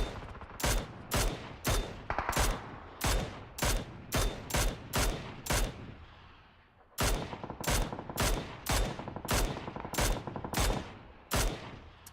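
Bursts of automatic machine gun fire in the shooting game PUBG, rapid loud volleys of close shots that pause briefly midway and then resume in another steady string.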